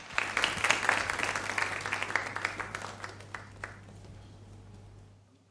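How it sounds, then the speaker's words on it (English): An audience at a school public speaking competition final gives a burst of applause, many hands clapping together in a dense patter that swells early and then fades out over several seconds. "Ladies and gentlemen, a round of applause, please."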